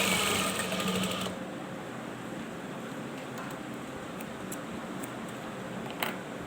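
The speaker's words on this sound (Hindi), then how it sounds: "अब आइए हम सिलाई लगा रहे हैं" A sewing machine stitches a seam on a gents kameez, starting with a brief burst of fast, loud whirring. It then settles into a quieter steady hum, broken by a few soft mechanical ticks.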